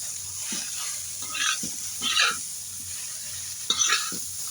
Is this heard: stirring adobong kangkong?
yes